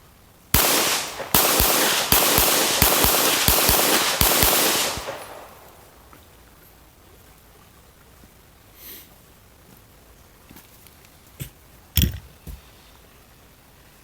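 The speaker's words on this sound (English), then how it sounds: "we're going to pull out the old Glock 17" A Glock 17 9mm pistol fires a rapid string of about nine loud shots at an aluminum target outdoors on a ranch, followed by quiet with a couple of faint distant pops.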